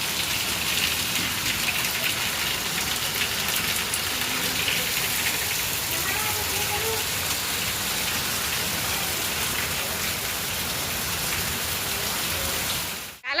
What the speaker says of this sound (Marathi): पाऊस बघा कसा धो धो सुरू आहे